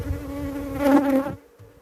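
Honey bees buzzing around an opened hive, a dense close hum that swells in the middle and then drops away, with no talking.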